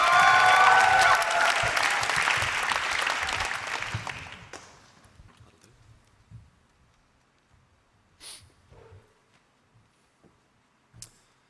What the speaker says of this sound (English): Keep that applause coming.